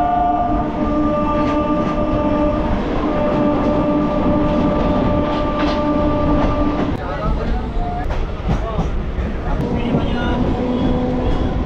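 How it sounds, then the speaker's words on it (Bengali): Sealdah to Namkhana local train stopping at Park Circus, heard from inside the coach as a steady loud rumble with metallic tones and squeals, clanks near the end, and crowd chatter in the background. "এটাই হচ্ছে আমাদের শিয়ালদা টু নামখানা লোকালের প্রথম স্টপ"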